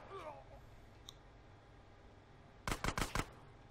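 A quick burst of four or five loud, sharp gunshots in GTA San Andreas, fired in rapid succession near the end after a mostly quiet stretch with faint background game sounds.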